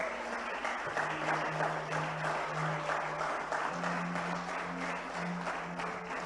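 Church congregation applauding together, a steady dense wash of clapping that stays loud and even throughout, with a sustained musical tone or hum beneath it.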